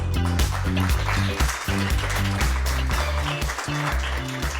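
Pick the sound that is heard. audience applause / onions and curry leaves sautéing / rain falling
audience applause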